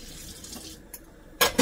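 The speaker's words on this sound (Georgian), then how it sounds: "ამოვრეცხოთ 2 კინკილა ჭურჭელი." Dishes are washed in a kitchen sink, with running water and soft clinks of crockery, ending in a louder burst of splashing and rattling, close and brief.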